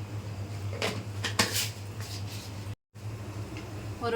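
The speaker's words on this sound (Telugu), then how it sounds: "తాలింపు గింజలు వేసుకుందాం" Tempering seeds go into a pan of hot oil and are stirred, giving a few light metallic clinks and scrapes over a steady low background hum, with a brief dropout midway.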